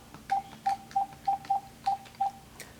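Dialing tones from a Kenwood KMM-BT515HD car stereo making a phone call: seven short, evenly spaced beeps at a steady mid pitch, fairly quiet, with no voices.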